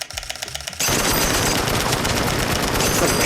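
A Sony A7 IV camera shutter fires a fast, continuous burst of clicks that starts abruptly after a brief quiet moment and rattles on loudly like a machine gun until the end.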